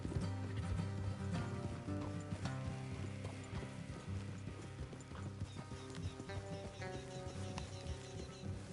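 Horses trotting in the video game Red Dead Redemption 2, a steady clip-clop of hooves on a road with a constant musical and mechanical bed underneath.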